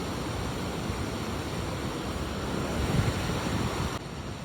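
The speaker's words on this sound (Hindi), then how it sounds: "कैसे चट्टान के अंदर से पानी फूट रहा है।" Meltwater gushing out of rock at Gaumukh, the glacier-mouth source of the Ganges in the high Himalaya, heard as a steady, loud, broadband roar of rushing water with wind buffeting the microphone, no voices.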